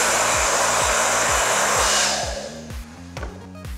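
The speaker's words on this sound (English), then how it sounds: "the way to remove that is with a hairdryer on the cold setting" Hair dryer on its cold setting, running steadily at close range for about two seconds, then switched down so its airflow fades, leaving quieter handling noises.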